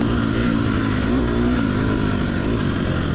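A race car engine roars and climbs under throttle on a hilly racetrack, heard from onboard as a loud, continuous, dense drone with a steady rising pitch and no pauses.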